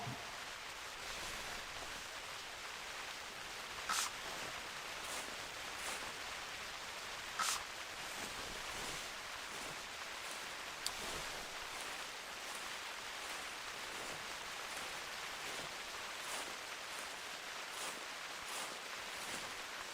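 Steady rain falls in the hunting video game theHunter Classic, a constant soft hiss with a few faint clicks, quiet and continuous without talk.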